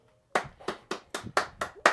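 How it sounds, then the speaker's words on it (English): Eight sharp hand claps ring out close by in a steady, even rhythm, alone with no talk, in an artist's studio. "Give yourselves a round of applause."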